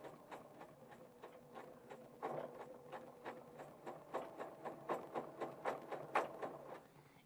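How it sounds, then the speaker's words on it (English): Sewing machine stitching fabric in slow bursts while being pivoted around a circle ruler, a soft rhythmic mechanical clatter that rises and speeds up through the second half, close and alone. "I'm going to drop my foot and I'm going to get to stitching"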